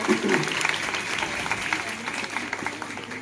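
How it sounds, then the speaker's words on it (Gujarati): Applause from an audience at a school enrollment festival event, continuous clapping for about three seconds with voices mixed in underneath. "એમની માટે એકવાર જોરદાર તાળીઓ થઈ જાય"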